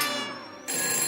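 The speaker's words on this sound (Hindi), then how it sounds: "तभी जमींदार करोड़ी मल के मोबाइल की घंटी बजने लगी।" A mobile phone rings in a Hindi cartoon comedy story, short bright electronic ringtone tones, loud and close, with a brief dip between two bursts of ringing and no talking.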